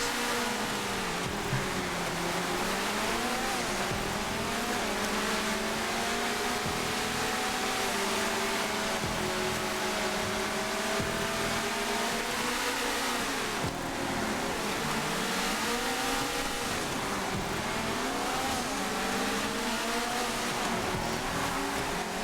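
Karuma rally cars racing in GTA 5, a steady loud engine drone with rising and falling revs as several cars pass, continuous through the whole stretch with no talk.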